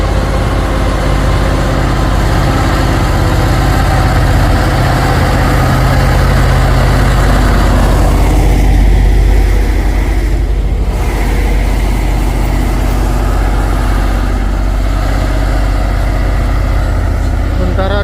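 Pertamina tanker trailer truck on a hill climb, its heavy diesel engine idling with a loud, steady low rumble that continues unbroken, amid other traffic noise.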